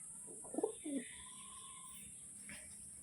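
Tulsira pigeons give a couple of short, low coos close by, followed by quiet stillness under a steady high electronic whine.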